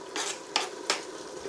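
Sun-dried tomatoes are stirred into a chicken, fennel and black olive stew pot, giving three short scraping strokes over a low, steady bubbling hiss.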